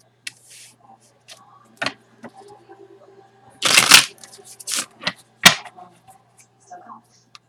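Playing cards are shuffled in several bursts: brief riffles and flicks, with one longer, louder riffle in the middle, close up against a quiet room.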